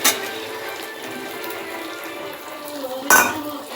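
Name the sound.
adding two eggs into pan of potato curry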